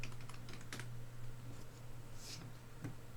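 Light typing on a computer keyboard, a quick run of soft close clicks over a steady low hum, with no talk.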